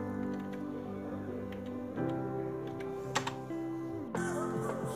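Keys typed on a Logitech K480 keyboard, a stream of soft clicks under a steady humming background, some taps a little louder.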